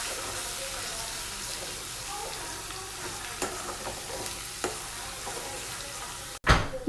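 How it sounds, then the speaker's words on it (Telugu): Garlic paste frying in a pan for a vegetable curry, a steady close sizzle with occasional stirring knocks and scrapes, continuous throughout. "గార్లిక్ పేస్ట్ పచ్చివాసన పోయేంత వరకు ఫ్రై చేసుకోవాలండి"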